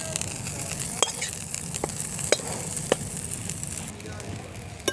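Cooked chicken fries and is stirred into homemade chicken chowmein, a continuous sizzle broken by several sharp clinks and scrapes of the spatula against the pan.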